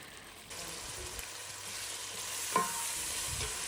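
A steady, close sizzle of onions frying in a pan, with occasional scraping and knocking as they are stirred.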